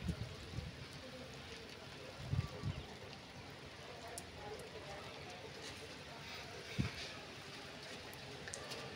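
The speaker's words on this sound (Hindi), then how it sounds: "फिर भी बूंदें हो रही हैं।" Light drizzle falls outdoors in Delhi NCR near Ghaziabad, making a steady soft hiss with a few close thumps, while a light breeze blows around a wet flag.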